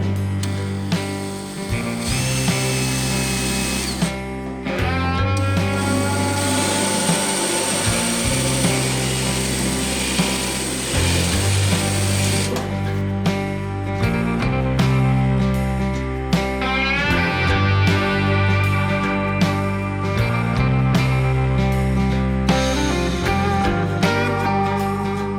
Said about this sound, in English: I'm actually gonna cut out the spot welds and see what it looks like